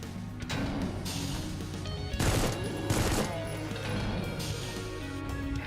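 Gunfire in the Once Human video game, a dense, crackling barrage of repeated shots and impacts running throughout, with bursts swelling louder at moments amid game music.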